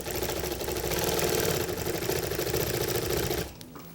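Longarm quilting machine stitching in the ditch along a quilt's outer border, a fast steady mechanical needle rattle that runs loud and even before tapering off near the end.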